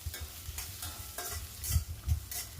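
Chopped ginger and red chillies fry in a pan, giving brief crackling sizzle bursts with soft bumps and spatula scrapes in an uneven rhythm, close and moderately loud.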